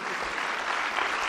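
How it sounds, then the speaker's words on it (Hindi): Loud applause from an audience at a motivational success seminar: dense, sustained clapping that holds steady throughout, with no voices over it. "दोनों के लिए जोरदार तालियां।"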